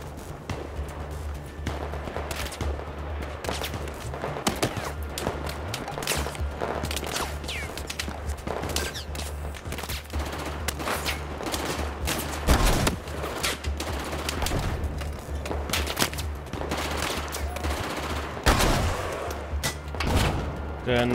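Heavy gunfire in Battlefield 4, with dense bursts of automatic fire and repeated loud shots layered over a constant low rumble, continuous throughout and occasionally peaking with sharp close blasts.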